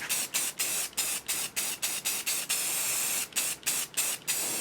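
A can of Rust-Oleum Heirloom White spray paint hisses in a rapid series of short, loud bursts close by, with a brief pause midway before the spurts resume, as paint goes onto prop model parts for a Fifth Element taxi cab.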